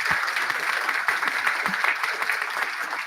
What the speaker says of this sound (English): How about we give them a round of applause right now?